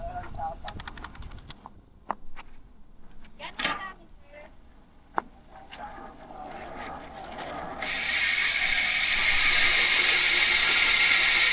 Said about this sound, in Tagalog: Yan yung tunog ng kanyang Ragusa, na hubs kapag naka-free wheel.